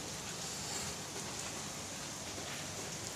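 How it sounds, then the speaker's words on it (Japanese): Steady rain falls during a downpour in Thailand as it starts to ease off, a continuous even hiss of drops on surfaces with no voices. "雨もちょっと小降りになってきたかな。"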